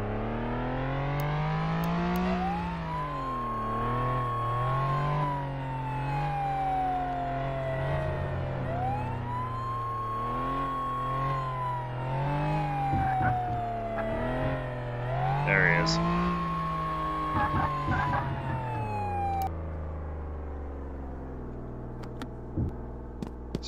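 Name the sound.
police car driving in video game Flashing Lights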